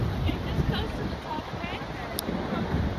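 Strong wind at Niagara Falls buffets the microphone in a continuous roaring rush that covers the whole stretch, with faint voices underneath.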